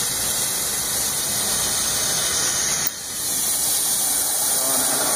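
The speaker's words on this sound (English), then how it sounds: "And then here, turn up the gas again." A natural gas and oxygen burner flame, used to fabricate a quartz head, gives a steady, loud, broad hiss that dips sharply for a moment partway through, then swells back to full strength.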